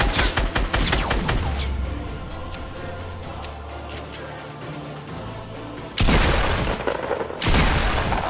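Grenade launcher explosions in Fortnite, a loud continuous rumble of blasts and crackling debris that dips mid-way, then two heavy booms land close in quick succession.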